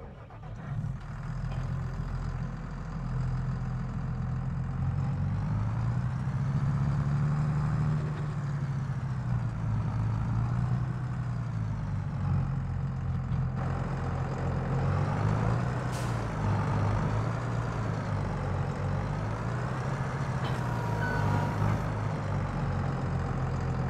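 A tractor pulling a trailer in Farming Simulator 2022, its engine droning low and steady as the pitch rises and falls with throttle over a long stretch, with no one talking.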